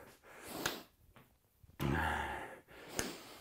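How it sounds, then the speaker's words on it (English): Heavy mouth breathing during an arm workout, with a few sharp sighing exhales and gasps, close to the microphone and not covered by talk. "A lot of mouth breathing today."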